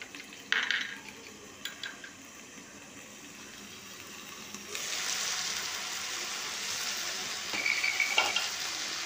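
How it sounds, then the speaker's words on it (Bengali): Okra for bhindi posto frying on low heat, a quiet sizzle broken by occasional clinks of a spatula against the pan, then a stronger, steadier frying hiss with further scrapes. "এইভাবে নেড়ে নেড়ে আমি ভাজবো কম আঁচে"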